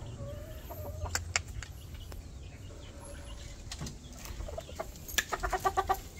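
Chickens on a small backyard farm, a rooster among hens, give scattered clucks and calls, with a quick run of sharper clucking near the end over low steady background noise; no one talks.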